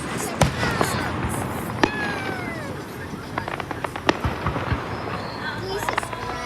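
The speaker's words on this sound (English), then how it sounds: "We are seeing some fireworks tonight." Fourth of July fireworks at night, with sharp pops and bangs scattered irregularly across the stretch, some near and loud, others fainter and crackling, while people chatter and call out in the background.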